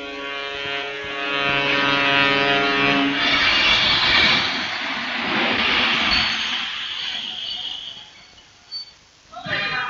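A passenger train arrives at a seaside station, rumbling in and passing with a broad rushing roar, layered with a low humming tone early on, under a German narrating voice, then fades.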